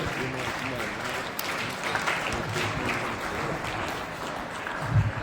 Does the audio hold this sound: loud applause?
yes